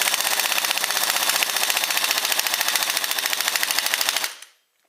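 Air impact wrench hammering rapidly and continuously while removing cut-up studs, driven by a small pancake compressor; loud, dense rattling bursts for about four seconds, then it stops abruptly into silence.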